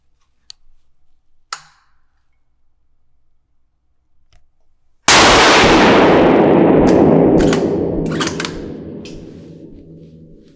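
A single loud gunshot fired over a Caldwell Ballistic G2 chronograph rings out sharply after a few quiet clicks and handling noises, then fades in a long echo with a few more faint clicks.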